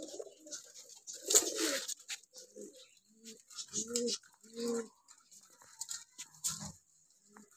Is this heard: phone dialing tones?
no